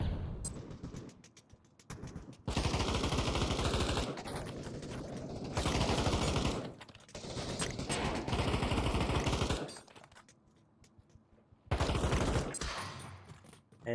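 Glock pistol gunfire in the VR shooter Pavlov during a competitive 4v4 match comes as loud bursts of shots separated by short quiet gaps, with mechanical clatter between them.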